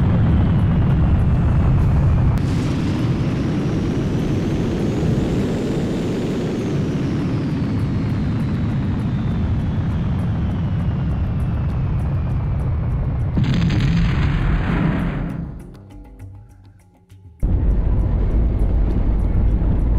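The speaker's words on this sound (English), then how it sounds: "The carrier has been blown out of the sky!" An aircraft carrier explodes and is blown out of the sky in Combat Commander: Assault Tank Diplomacy, a loud, sustained roaring blast that rumbles for many seconds, dips near silence, then bursts back in full force, with no talking.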